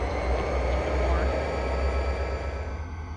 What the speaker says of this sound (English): As you can see, the train much, much heavier now. Having a harder time getting going